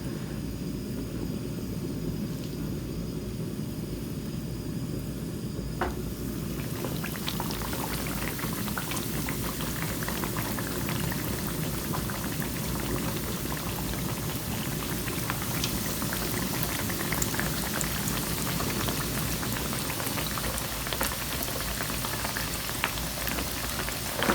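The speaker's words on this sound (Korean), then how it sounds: "그래서 불을 약간 줄이고 튀겨 보겠습니다" A breaded pork cutlet deep-fries in oil over lowered heat, a steady, dense bubbling crackle that continues without a break, close and even throughout.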